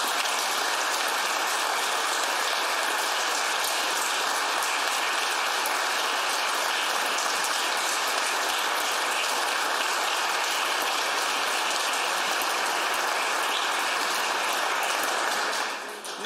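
Sustained applause fills a legislative assembly chamber as guests in the gallery are welcomed, a dense, even patter of many hands clapping for the whole stretch before tapering at the very end.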